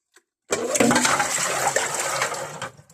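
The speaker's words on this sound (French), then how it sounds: "je vide le bac d'eau" Water is emptied from the removable tank of a DeLonghi Magnifica Start coffee machine, a sudden close pouring gush that runs for about two seconds and then stops abruptly.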